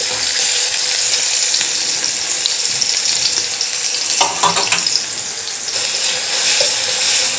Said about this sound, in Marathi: लसूण कोथिंबीरीची पेस्ट थोडीशी परतून झाली